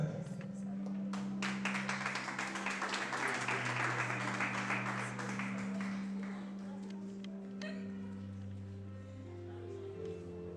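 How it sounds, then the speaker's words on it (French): Audience applause at a graduation ceremony, a dense wash of clapping that swells early and slowly thins, heard alongside sustained low tones. "que je vous demande d'applaudir s'il vous plaît"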